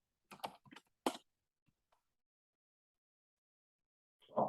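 Typing on a computer keyboard comes as a few quick bursts of close clicking keystrokes, then a long silence broken by a couple of faint taps, and a last cluster of key presses.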